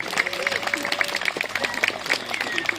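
Applause from the audience at a falconry flight demonstration at Château d'Estaimbourg in Belgium, a short burst of outdoor clapping mixed with crowd noise and whistling-like tones. Voices can be heard alongside it.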